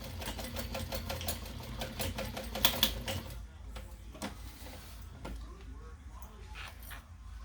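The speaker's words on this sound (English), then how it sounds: "we're going to baste these on here as close to the edge as you can" A sewing machine runs in a steady rapid stitching rhythm while basting fabric pieces close to the edge, then stops partway through, leaving quiet handling sounds and faint background noise.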